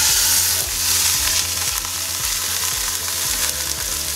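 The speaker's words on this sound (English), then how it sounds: "use a little bit of olive oil and we're going to sear our chuck for our awesome beef stew" Chuck roast sears in olive oil inside a Ninja Foodi multicooker for beef stew, a loud steady sizzle and crackle with a low rhythmic hum pulsing underneath throughout, no voices.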